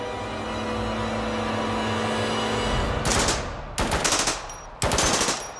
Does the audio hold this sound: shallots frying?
no